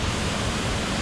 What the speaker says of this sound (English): You can tell there's a waterfall just around the corner.